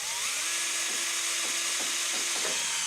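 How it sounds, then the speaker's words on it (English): A power drill whines as it drives self-drilling screws into a transmission cooler mount, a high, steady motor pitch broken by several short dips and bursts as the bit bites into the metal. "I'm just going to pin that in there with these self-drilling bits."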